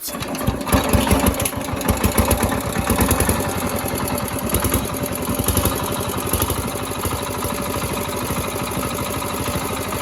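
An old second-hand CD diesel engine, a roughly 60 kg stationary unit, runs steadily with a fast, even chugging rhythm. It is close and loud throughout, and no one speaks over it.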